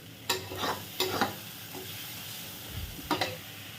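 Spice paste with plenty of tomato fries in a pan for a spicy bhola fish curry, a steady low sizzle broken by several scraping stirs of a spoon, close and without voices.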